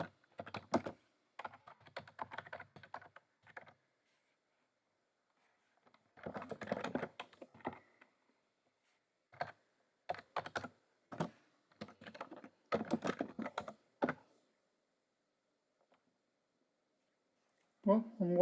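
Bursts of quick keystrokes on a computer keyboard as terminal commands are entered, close and fairly quiet, arriving in irregular clusters separated by silent pauses.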